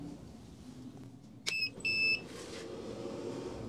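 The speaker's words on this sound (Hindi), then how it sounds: "यहाँ पे देखें एक बीप की आवाज़ हुई और ये हमारा फ्रिज ऑन हो चुका है" A DC to AC inverter running a refrigerator gives out a short electronic beep as the fridge switches on: a sharp click, then two brief high tones in quick succession against a low background hum.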